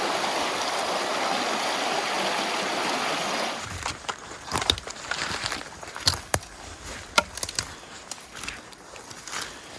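Turbulent Creek in Banff National Park rushes with a dense, steady roar of flowing water for a few seconds, then gives way to scattered crunching steps and rustling close by.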